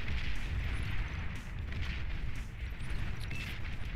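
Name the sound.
tank artillery fire in video game Beyond All Reason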